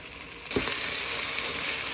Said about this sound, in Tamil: இந்த மேரினேட் பண்ணி வச்ச இறால் இருக்குதானே, அதை அதுக்குள்ள போட்டு பொரிய பண்ண போகிறோம்